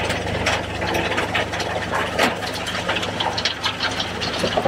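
A mini soil screener runs while screening topsoil, giving a loud, steady mechanical engine rumble mixed with a continuous rattling clatter of material passing through, heard up close.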